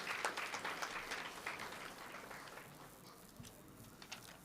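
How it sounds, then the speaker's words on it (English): Audience applause at a national conference on sports Ayurveda, a fairly faint spread of clapping that starts fuller and thins out over a few seconds, with no talk over it. "So a big round of applause for Suhas Patil, sir."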